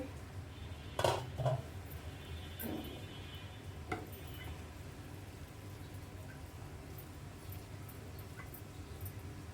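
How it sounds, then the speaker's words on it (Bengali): A metal lid is lifted off a pot of chicken tehari cooked on low heat, giving a brief clatter and clink of metal near the start, then fading into a quiet kitchen background. "ঢাকনাটা তুলে নিচ্ছি"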